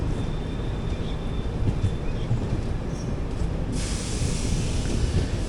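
The Yesvantpur Kannur Express stands at a station platform, giving a steady loud rumble and broad hiss of idling rail equipment, with a brighter hiss rising toward the end.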